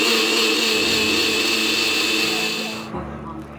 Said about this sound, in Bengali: আর এর সঙ্গে একটুখানি আদা আর কাঁচা লঙ্কা একসঙ্গে বাটবো